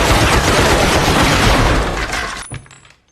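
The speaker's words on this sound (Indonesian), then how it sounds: "ia pun menggunakan peralatan modern berupa Gatling gun yang mampu melepaskan sejumlah peluru dalam satu kali tembakan" Sustained, dense rapid-fire burst of a Gatling gun, loud and continuous for about two and a half seconds before cutting off into a brief ringing tail and silence.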